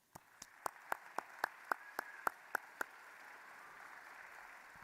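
An audience at a school civil rights program claps for its speakers and performers, about ten sharp, separate claps over a steady background murmur. The claps stop around the three-second mark and leave only the room hum.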